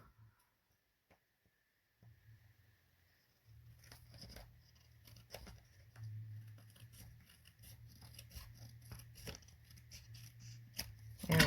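Scissors cut paper for a Christmas card, faint close snips and rustles with a soft low hum underneath, the crisp cuts clustering toward the end.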